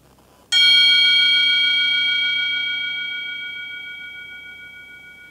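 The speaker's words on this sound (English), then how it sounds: "every time I get a picture, the dead bell rings" A single bell strikes once inside a haunted prison, ringing loud and clear, then its bright tones hang and slowly fade over several seconds in a quiet space.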